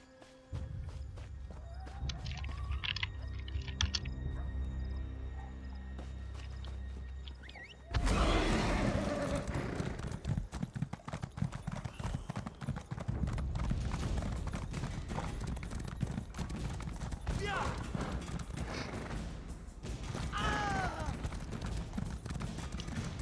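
Horse hooves clopping in a steady rhythm while riding horseback in the ESO video game, mixed with game ambience after a quieter music-like opening.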